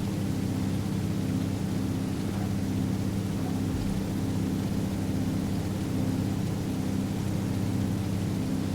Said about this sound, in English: I can't see nothing anymore because it's raining